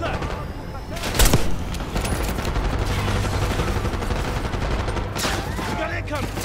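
Dense automatic gunfire from a firefight in the video game Call of Duty: Black Ops 6, with a sharp crack early on and near-constant rattling bursts throughout, mixed with voices and battle noise.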